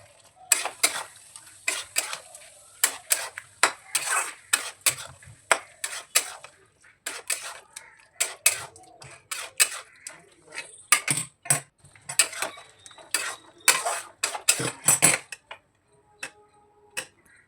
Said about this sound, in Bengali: ভাজা মশলাটা দিয়ে নেড়ে চেড়ে তারপর আমি আলুগুলি দিয়ে দিচ্ছি